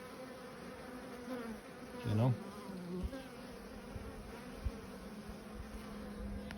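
Honey bees, Buckfast and Irish Black, buzz continuously around the hive. There is a soft, even hum with a louder swell as one passes close, and a brief voice in the background.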